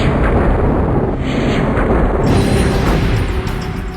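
A huge comet fragment slams into Jupiter in a massive explosion, heard as a loud, sustained rumbling roar with dense low-end blast energy that stays strong throughout.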